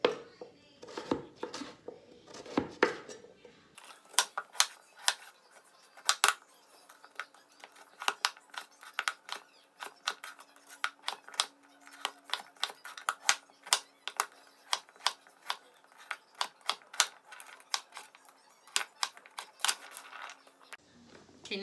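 Knife chopping food into small pieces for meal prep, a steady series of close, sharp taps on a cutting board, preceded by some handling noise, with a faint hum underneath.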